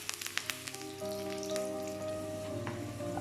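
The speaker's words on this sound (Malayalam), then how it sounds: "കടുക് പൊട്ടി വരുന്ന സമയത്ത് ഇതിലേക്ക് ചെറിയുള്ളിയും കറിവേപ്പിലയും വറ്റൽമുളകും കൂടി ഇട്ട് കൊടുക്കാം" Mustard seeds, small shallots, curry leaves and dried red chillies frying in hot oil, a soft steady sizzle with scattered sharp pops and crackles near the start, alone and fairly quiet.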